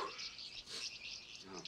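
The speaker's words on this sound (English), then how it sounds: "Look at these birds." Birds in a pet shop chirp in quick bright tweets, fairly close, with a soft muffled voice beneath them.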